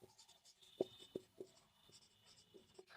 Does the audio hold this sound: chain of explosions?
no